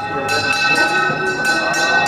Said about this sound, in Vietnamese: Cô gái thì lắc chuông, biết lắc chuông làm gì?